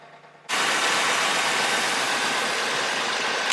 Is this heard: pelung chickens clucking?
no